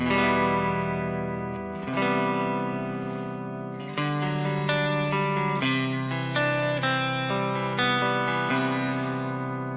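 Electric guitar through a Kemper Profiler with a softened sine-wave tremolo, sustained notes and chords pulsing smoothly in volume over nearly ten seconds, changing pitch every couple of seconds, no voices.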